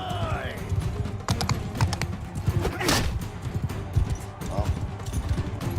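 Horse hooves clop in quick, uneven beats during a cavalry fight in the video game Mount and Blade II: Bannerlord. Clashing and impact noises sit on top of the hoofbeats, which stay moderately close throughout.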